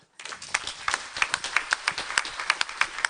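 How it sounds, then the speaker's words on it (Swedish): Small audience applauding after a public health report presentation, brisk irregular clapping that starts abruptly and continues steadily, fairly close and moderately loud. "Varm applåd."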